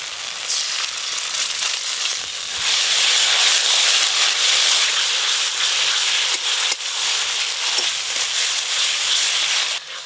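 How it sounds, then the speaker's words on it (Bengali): Spice paste with sour yogurt frying in a pan for a rural Bengali-style dish, a loud continuous hissing sizzle close by, steady throughout with slight swells in intensity. "দই দেওয়ার পর মশলা বেশ ভালো করে খানিকক্ষণ সময় নিয়ে কষে নেব"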